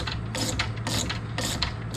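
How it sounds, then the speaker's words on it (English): A ratcheting wrench tightens the end link nut on a Hotchkis sway bar fitted to a 2004 SRT4, rapid close clicking in short bursts over a low steady hum. "All I'm going to do is I'm going to tighten this up some. I have the wrench on the top."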